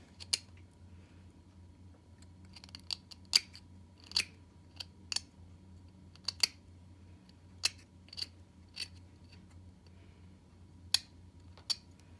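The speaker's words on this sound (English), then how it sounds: "When you use your lab knife, you're gonna hold it in your palm and your thumb to stabilize it and trim it away." A lab knife trims a plaster dental study model in a quiet room, making sharp, irregular scraping clicks spaced about a second apart over a low background hum.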